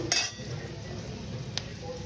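Chana dal and urad dal fry in hot oil in a pan with chillies while a semolina dish is being prepared, giving a soft, steady sizzle with a couple of brief metallic stirring clicks and no talking.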